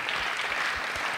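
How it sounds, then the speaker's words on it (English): Audience at the African Readers Conference 2022 claps for departing panelists, a brief burst of steady, dense applause filling the room. "Allow me to request that you'll clap the biggest of your hand claps as we have our panelists off."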